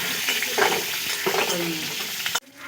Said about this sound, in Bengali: গোটা জিরে দিয়ে দেব দুটো শুকনো লঙ্কা বটা সমেত চারটে চেরা কাঁচা লঙ্কা খুব ভালো করে ফড়ান করে